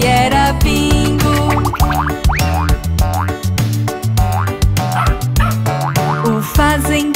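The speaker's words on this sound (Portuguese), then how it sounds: "O fazendeiro tinha um cão, seu nome era Bingo." Repeated playful dog barks and yips bounce through a bright children's song about a farmer's dog, loud and rhythmic among sung melody and backing instruments.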